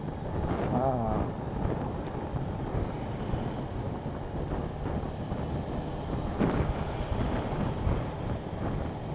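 Wind roars past a moving motorbike on a highway ride, a steady, loud broadband rush buffeting the microphone throughout, with faint engine rumble beneath and no clear speech.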